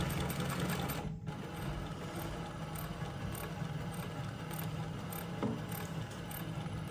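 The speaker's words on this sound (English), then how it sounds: "we're going over 6 layers of leather and it is sewing them with complete ease" A Jack S7 computerised post bed roller feed sewing machine runs steadily and close up through six layers of leather, a fast, even mechanical whirr with rapid stitching rhythm, pausing briefly once before continuing.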